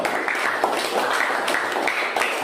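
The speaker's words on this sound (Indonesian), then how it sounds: "Tepuk tangan dulu untuk kelompok itu." A classroom group claps for a presenting group after an Indonesian-language lesson, a short burst of scattered clapping from a modest number of students, steady across the whole moment with no talk over it.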